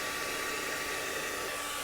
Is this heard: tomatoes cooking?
no